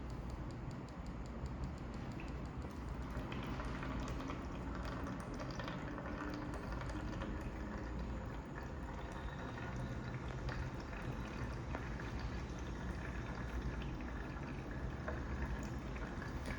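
Water flowing out during a wastewater treatment process, a steady continuous rushing and trickling wash that stays even and fairly faint throughout, with no talking.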